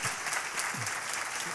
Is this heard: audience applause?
yes